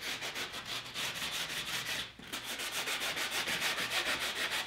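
Fine-grit sandpaper rubs back and forth on a vintage wooden frame in quick, even strokes with one short break, close and fairly quiet.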